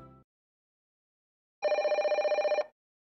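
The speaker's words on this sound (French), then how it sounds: "Le téléphone sonne." A telephone bell rings in one continuous burst of rapid, evenly pulsing trills, loud and close, after a brief sound and a long silence.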